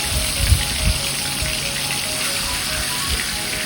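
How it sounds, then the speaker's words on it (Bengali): Fish pieces shallow-frying in hot oil give off a steady, broadband sizzle and crackle, close and continuous with a few soft low bumps, no voices. "একটু সুন্দর করে ভালো করে লাল লাল করে ভেজে নেব মাছগুলো"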